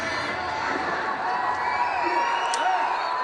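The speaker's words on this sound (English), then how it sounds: "as you can imagine, there's a huge cheer for Akadov." A large home crowd at a judo Grand Slam arena in Tashkent cheers and shouts in a sustained roar, with a commentator's voice over the din.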